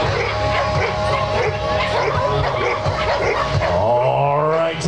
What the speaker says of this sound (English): That little Nova Scotia duck tolling retriever, a little less than 17 inches in the weather.